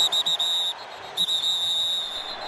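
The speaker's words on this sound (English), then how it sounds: "Whistles prior to the snap." A referee's whistle during an American football game, Seahawks at Cowboys in 2008: a couple of short shrill toots followed by a longer sustained blast, loud over crowd noise.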